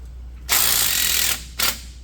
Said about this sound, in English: we're going to loosen up these 2 1/2 inch bolts here